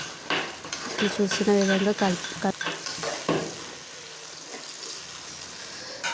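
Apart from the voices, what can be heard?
stirring tomato paste mixture frying in pan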